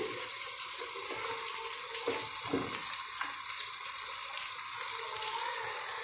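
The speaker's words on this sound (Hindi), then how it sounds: "अब डालते हैं खुश्क मसाले, 1 चम्मच हल्दी" Kadhi simmering in a pot on the stove as dry spices and turmeric go in, a steady bubbling sizzle with faint stirring scrapes throughout, no voices.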